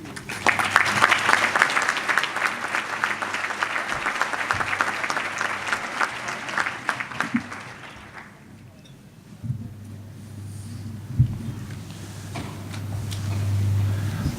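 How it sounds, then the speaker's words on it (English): Audience applause for new board members at an annual meeting, a steady round of clapping for about eight seconds that stops abruptly, leaving quiet room noise and a low hum. "Let's give our new board members another round of applause."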